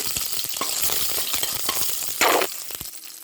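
Curry leaves and dried red chillies frying in hot oil with mustard, fenugreek and cumin seeds, a loud steady sizzle and crackle with a brief surge of spattering near the end, no voices.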